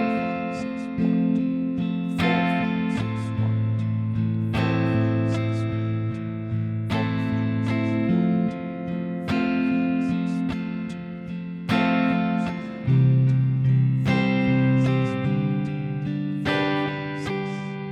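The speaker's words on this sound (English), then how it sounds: "if we were just to strum this with all downstrokes with that 6/8 timing, it would sound like this" An acoustic guitar strums chords in 6/8 time with all downstrokes, ringing chords changing every couple of seconds in a steady, sustained rhythm, played alone without voices.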